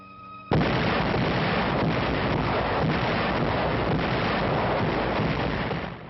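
Allied artillery guns opening fire at night across the Italian front in World War II, heard as a sudden loud onset of continuous rumbling, roaring barrage that stays dense and heavy throughout with no speech.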